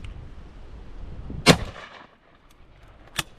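Two shotgun blasts fired at pigeons over decoys outdoors, one loud sharp report followed by a fainter second shot about two seconds later, over quiet background.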